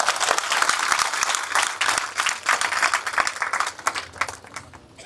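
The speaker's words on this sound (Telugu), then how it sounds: "మరొకసారి గట్టిగా చప్పట్లు కొట్టండి." Villagers clapping loudly at a Shivaji Maharaj statue installation ceremony, dense sustained applause that gradually thins out toward the end.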